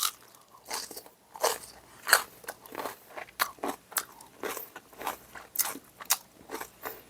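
Crunchy fresh napa cabbage kimchi is bitten and chewed up close, giving repeated wet, crisp crunches in an irregular rhythm of about a dozen bites with no talking.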